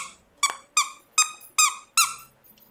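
Five sharp, evenly spaced squeaks from a plush emoji squeaky toy as a dog chomps it, each squeal loud and close with a quick decay, followed by a faint softer squeak.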